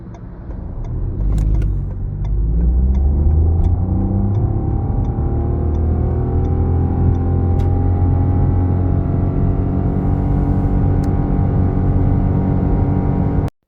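A 2025 Suzuki Swift GL Auto launches and accelerates hard, its engine note rising steadily through a long pull with brief shift breaks, loud and close, rumbling throughout until it cuts off.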